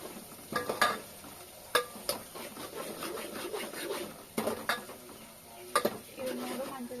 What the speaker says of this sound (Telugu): తర్వాత అల్లం వెల్లుల్లి పేస్ట్, ఇలా వేసుకొని ఫ్రై చేసుకుంటున్నాను మంచిగా